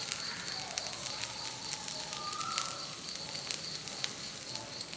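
Masala dosa batter sizzling steadily on a hot pan after oil is poured over it, a soft continuous frying hiss with faint crackles throughout.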